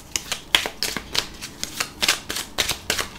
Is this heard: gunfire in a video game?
no